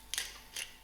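Pepper grinder cracking black peppercorns over an egg in a pan, two quick faint crunchy twists close by with quiet pauses between.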